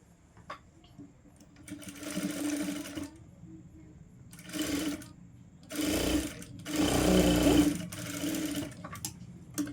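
An electric sewing machine stitches a folded belt strip for a child's lehenga, whirring in several separate bursts of two to three seconds each with short pauses between, while someone talks in the quiet gaps.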